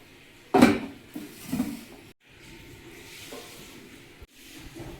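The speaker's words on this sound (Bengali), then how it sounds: "এখন কড়াই বসিয়ে দিচ্ছি, কড়াই গরম হোক" A karai wok is set down on a stove with a sharp metallic clank, followed by a lighter knock and then a soft, steady hiss of the burner.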